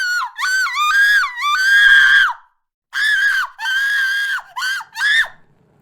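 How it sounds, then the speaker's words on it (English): A woman screams in long, piercing, anguished wails, several drawn-out cries broken by brief pauses, loud and close with nothing else around. "The scream of a woman dying in agony."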